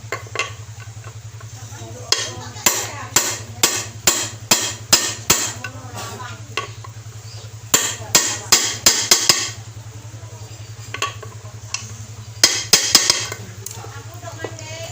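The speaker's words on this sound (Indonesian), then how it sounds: "lalu kita pukul pakai palu dari atas" Sharp metallic hammer strikes driving a water pump seal into a Honda CB150R/CBR motorcycle engine, coming in quick clustered bursts of close, loud taps over a steady low hum, with a voice talking at times.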